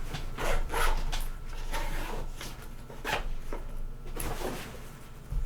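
A stiff zipper on an Innova Super HeroPack II bag dragged in several uneven, catching pulls, each a raspy scrape up close, with fabric rubbing between them.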